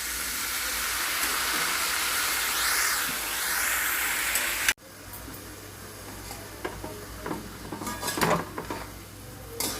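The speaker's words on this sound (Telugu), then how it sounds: "టమాటాలు వేసేసుకుందాం మనం." Chopped tomatoes tipped into a hot pan of curry base for a dried-fish tomato curry, starting a sharp sizzle, then giving way to quieter frying, stirring and clinks of a spoon against the pan.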